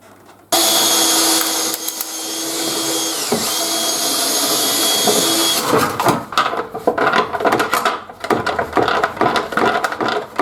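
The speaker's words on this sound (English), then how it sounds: "So I just need to drill a hole the size of that." A power drill whines steadily for about five seconds, boring a hole for a cable gland on a two-speed remote dust extractor build, then gives way to a run of clunks, scrapes and handling noises.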